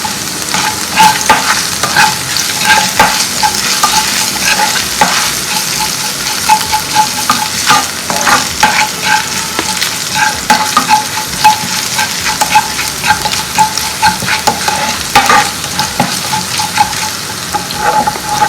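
Kerala prawn roast cooking in a pan, with a steady loud sizzle of frying and repeated scraping stir strokes throughout, plus occasional running-water sounds in the background; no speech.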